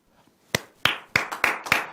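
A few people clapping together in a loose rhythm: about five sharp, close claps spaced roughly a third of a second apart, coming in after a near-silent start, with no one talking.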